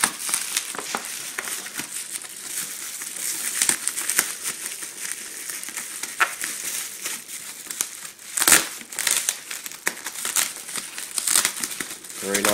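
A padded parcel is unpacked with continuous crinkling and crushing of packaging, close up and busy, with occasional louder rustles.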